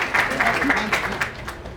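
Audience applause at the opening ceremony of HarmonyCon 2020, a steady wash of clapping from a crowd that runs the whole time, with a voice faintly underneath.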